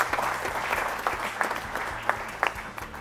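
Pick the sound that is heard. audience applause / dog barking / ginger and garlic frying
audience applause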